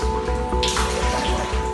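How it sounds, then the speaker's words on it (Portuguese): Water in an indoor pool sloshing hard during an earth tremor, a steady splashing wash with a surge of louder rushing midway, heard up close with a low rhythmic hum underneath. "A água da piscina coberta se movimenta com força."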